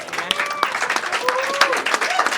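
An audience at a media breakfast dialogue on tuberculosis at the UN General Assembly breaks into applause, a moderate burst of scattered clapping that fills the short moment.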